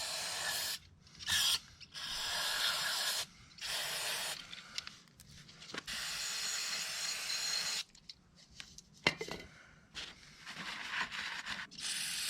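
Brake parts cleaner hisses from an aerosol can into the carburetor jet of a Tecumseh engine on a Craftsman MTD snowblower, loud close bursts of spray repeated many times with short pauses between them.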